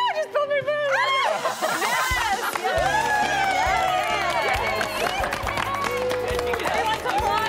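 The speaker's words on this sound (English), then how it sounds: "Applauding." A small group cheers and claps at a bridal gown fitting, with excited shrieks, laughter and overlapping voices, loud and close throughout.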